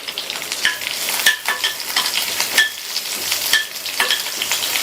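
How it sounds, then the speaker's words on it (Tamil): Curry leaves, garlic and dried chillies sauté in hot oil, crackling loudly and close with rhythmic bursts as they are stirred every second or so. "எல்லாத்தையும் வதக்கி விட்டுட்டு நம்ம பச்சடியில் சேர்த்துடலாம்."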